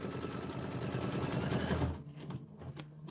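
A sewing machine runs in a steady, fast stitching whir while joining quilt blocks for a winter pine tree and rose pattern, then stops abruptly, leaving quiet room tone.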